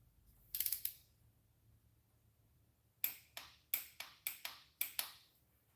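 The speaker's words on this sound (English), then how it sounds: "the click means that I've reached the torque spec." A torque wrench set to 80 inch-pounds, used during a tune-up, gives a short burst of clicks and then a rapid series of about eight sharp metallic ratcheting clicks, close and alone.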